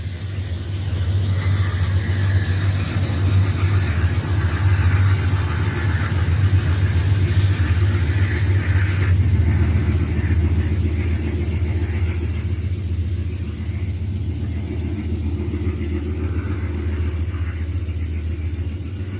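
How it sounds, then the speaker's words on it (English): A General Electric locomotive on a Conrail train gives a deep, throaty exhaust rumble, loud and steady for the whole stretch, with no voices. "the General Electric's throaty exhaust is music to our ears"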